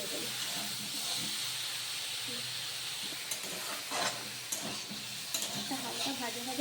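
Carrots, potatoes, onion and beans for chicken stew fry in a pan with a steady hiss, broken by scraping stirs and clatters of a spoon, heard up close with a voice faintly in the background.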